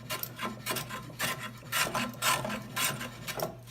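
Rhythmic rasping strokes of a hand plane shaving a wooden catboat half hull, repeated every half second or so, close and fairly quiet over a low steady hum.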